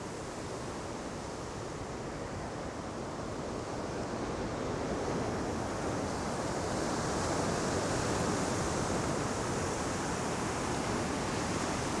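Sea waves at a port near Port Nolloth, South Africa, rolling as a steady, loud broadband surf roar mixed with wind buffeting the microphone, continuous for the whole stretch with no voices.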